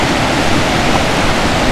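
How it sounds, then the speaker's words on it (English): The Colorado River rushes past a sandy beach at the confluence with Tapeats Creek in the Grand Canyon, giving a loud, steady, broadband roar of flowing water with no pauses and no voices. "Here's the Colorado River."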